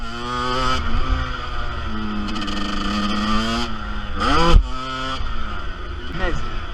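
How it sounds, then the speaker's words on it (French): A car passes by on a road during motorcycle wheelie practice, its engine tone rising and falling as it sweeps past, with someone talking over the engine noise. "Il y a une voiture qui passe, on va l'attendre."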